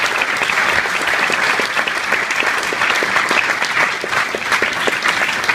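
Sustained applause from a crowd at a Mercer County Democrats political gathering, a dense, steady wash of clapping that carries evenly through the whole stretch without any talk.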